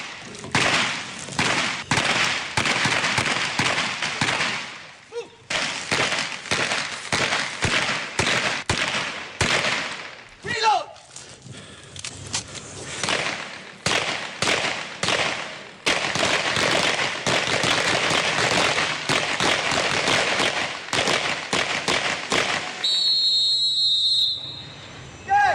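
Rapid gunfire from police trainees at shooting practice, dense crackling volleys of shots in long bursts separated by short pauses, loud and fairly close, continuing for most of the stretch with a brief faint whistle toward the end.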